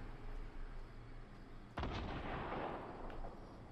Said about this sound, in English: I hear shots that way.